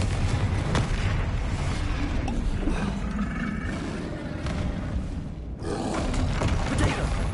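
A blasting-spell explosion in the Hogwarts Legacy video game: a continuous booming, roaring rumble across the whole stretch, loud and dense, easing slightly midway before a fresh burst swells back up.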